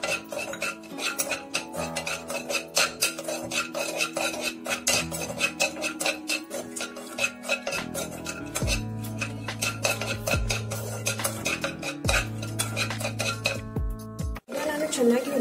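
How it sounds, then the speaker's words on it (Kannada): Cutlery scrapes and clinks against a metal pan as raisins and cashews are stirred and roasted for shavige payasa, a steady busy clatter of utensil on pan throughout, with low hum joining later. "ಇದಕ್ಕೆ ದ್ರಾಕ್ಷಿ ಗೋಡಂಬಿ ಹಾಕ್ತಾ ಇದ್ದೀನಿ. ಇದನ್ನ ಒಂದು ಸ್ವಲ್ಪ ಹುರ್ಕೋತಾ ಇದ್ದೀನಿ."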